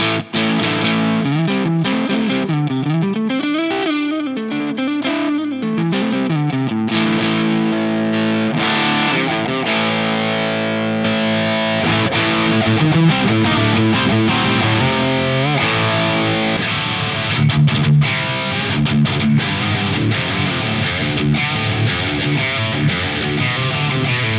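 Heavily distorted electric guitar through a Brit-style amp capture and cabinet IR on an iOS app, playing chugging riffs and sustained chords, thick and loud throughout with no talking.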